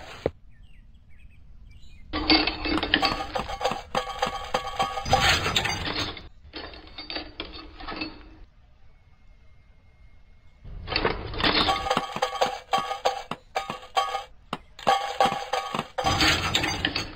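Cowling parts being removed from an aircraft engine in a plane mechanic simulator game, heard as loud mechanical ratcheting and clanking in two long bursts separated by a near-silent pause.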